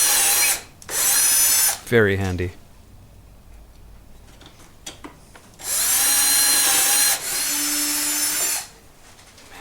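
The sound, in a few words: drilling holes in wood using drill guide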